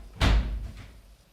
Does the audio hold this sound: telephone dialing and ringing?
no